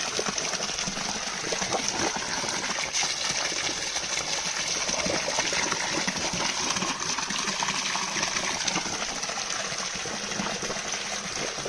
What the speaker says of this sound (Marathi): इतकं पाणी प्रेशरने येतं आणि हे पाणी कंटिन्यू वाहत राहणार